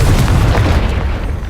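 A Confringo fire spell explodes in the video game Hogwarts Legacy, a loud, deep booming blast whose low rumble rolls on for about a second and a half and slowly fades, with no voices over it.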